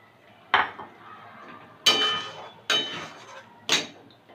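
Prawns going into a pan of boiling milk for a prawn malai curry made without coconut milk, heard as a few sharp, close clatters and clinks against the pan with quiet gaps between them.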